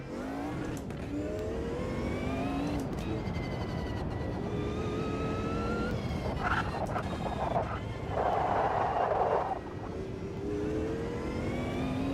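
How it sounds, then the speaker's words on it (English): A race car engine in the Automobilista 2 sim racing game at Imola or Kyalami, running steadily and loud through repeated upshifts and revving, with brief downshifts and quieter patches across a long continuous stretch. "in the audio mix, I think my engine noise is the loudest"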